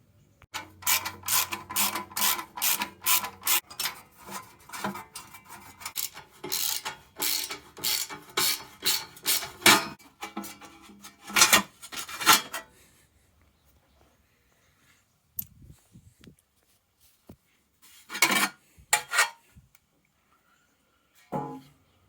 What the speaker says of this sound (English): get these heat shields off. It's just a couple of sockets.